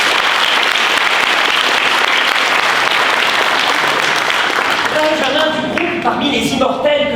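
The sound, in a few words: audience applause for the eloquence contest speakers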